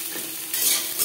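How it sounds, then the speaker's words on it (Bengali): Jute stalks with pointed gourd frying in a pan for a summer jute-leaf curry, giving a steady close hiss of oil and vegetables that swells louder about halfway through, with no talking. "দু 3 মিনিট ডাটা ভেজে নেওয়ার পর দিয়ে দেবো পটল।"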